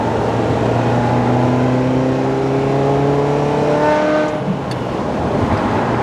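A Ferrari F355 fitted with a Capristo sports exhaust revs loud and close, its high engine note climbing steadily in pitch, then dropping away as the throttle is released.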